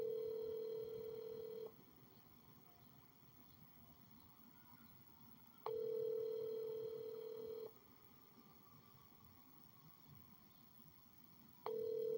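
A telephone ringback tone on a call that goes to voicemail, three long steady tone bursts a few seconds apart with quiet line hiss between them, clear and alone.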